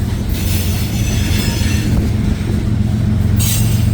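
A freight train with double DPU locomotives passes close by on a cold, windy morning in Hamilton, a loud, steady roar of rolling wagons with rumbling wheels throughout.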